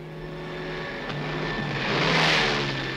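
A small two-seater airplane engine drones steadily at moderate distance, swelling louder toward the end before easing slightly. No voices are heard.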